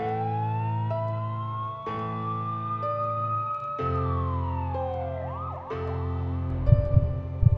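Ambulance siren wailing loudly and close, its tone sweeping up and down in long rising and falling cycles before switching to a faster yelp, with no voices.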